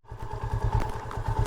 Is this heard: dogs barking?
no